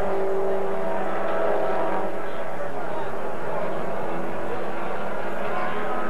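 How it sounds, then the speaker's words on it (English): A 1980 SCCA F Production race car swings through S-curves at a national championship race, engine droning and changing pitch as it works through the bends, under continuous commentary. "Barker swinging that car through the S's"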